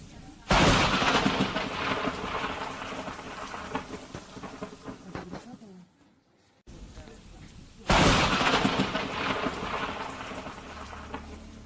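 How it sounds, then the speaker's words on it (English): Heavy rain pours steadily over a city, broken by sudden loud cracking thunder bursts from lightning strikes and a brief near-silent gap between them. "a run-of-the-mill thunderstorm passed over the city"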